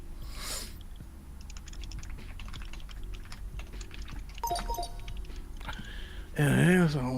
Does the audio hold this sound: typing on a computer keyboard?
yes